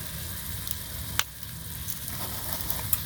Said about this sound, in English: so my broth is boiling